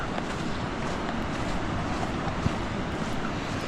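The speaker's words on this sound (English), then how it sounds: "I can hear the waves." Big ocean waves on a beach at Laganas, a steady, loud broadband rush of surf mixed with wind buffeting the microphone, continuous with no distinct breaks.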